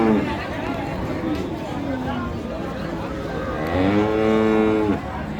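Cattle low at a rural livestock market, Ambari haat in Dinajpur, where cross Friesian heifers are traded. A couple of long, loud moos rise over the steady chatter of a milling crowd.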